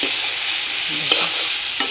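Spice masala for a Bengali fish dish with red amaranth stalks fries in a pan with a strong, even sizzle. Two or three brief scrapes of stirring rise above the sizzle. No one speaks.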